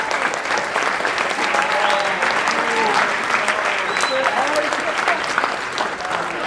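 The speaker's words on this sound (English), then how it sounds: "So, round of applause for Mr. Edgerly." A crowd at a high school symposium breaks into sustained applause, steady and full throughout, with scattered cheers and voices mixed into the clapping.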